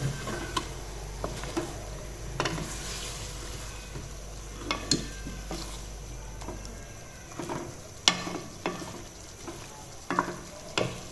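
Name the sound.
stirring chicken karahi with spices in a pan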